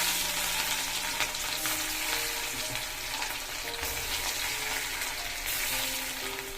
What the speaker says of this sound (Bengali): কড়াইতে তেলটাও গরম হয়ে গেছে। এবার মাছগুলো সব দিয়ে দেবো।